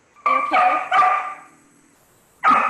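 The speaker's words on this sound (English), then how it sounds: "my dog might bark, so I apologize" A household dog barks several times nearby at home during an online workshop: sharp, loud barks in a quick cluster, then a pause and one more bark.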